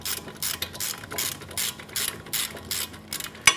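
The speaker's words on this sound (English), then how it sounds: "I'm going to remove the bottom bolt first." Ratchet clicking in quick bursts while loosening the bottom bolt on a 2007-2012 Nissan Versa during CV axle replacement, a close, steady series of pawl ticks repeated over several short strokes with a sharper click at the end.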